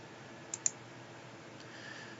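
Two quick, faint mouse clicks close together over a quiet background hum, selecting and opening data files on a computer.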